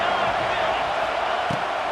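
Home stadium crowd roaring in an EA Sports College Football 26 online game, a dense continuous wash of cheering at steady loudness with a brief thump partway through.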